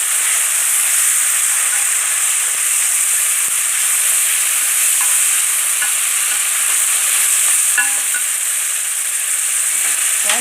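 Chopped tomatoes with green and red peppers hit a hot pan of rice and sizzle steadily and loudly, a continuous bright hiss with faint scraping from stirring, no voices.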